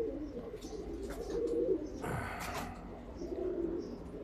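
Roller pigeons coo softly in low, repeated murmurs near a rooftop, faint and close, with a brief flutter or rustle in the middle.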